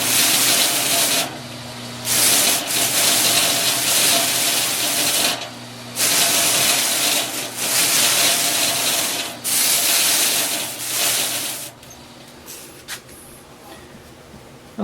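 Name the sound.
sanding mop smoothing small wooden scroll saw pieces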